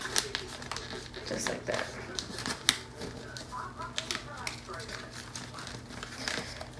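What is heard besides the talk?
folding and creasing paper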